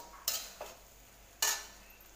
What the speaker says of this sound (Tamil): சாதத்தை சேர்த்து நல்லா கலந்து விட்டுடலாம்.